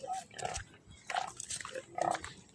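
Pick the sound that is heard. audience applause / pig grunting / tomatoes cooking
pig grunting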